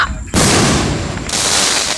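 Backyard fireworks go off with a sudden loud bang followed by a second burst, sharp explosive pops close by with bright crackling tails.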